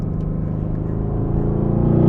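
A steady, deep engine rumble from a catless, turbocharged 800-horsepower Mercedes-AMG GT R that builds slightly in intensity toward the end as it revs to 7,000 RPM, heard up close with no talking.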